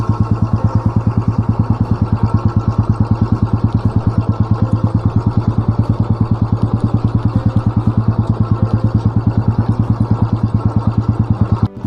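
A Royal Enfield Bullet motorcycle rides along an unpaved rural road, its engine a loud, close, steady thump with an even rapid beat that holds throughout with no speech.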